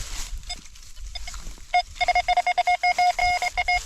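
Metal detector searching for small copper items such as old coins gives a string of short, high electronic beeps, sparse at first and then rapid and regular, close up and alone.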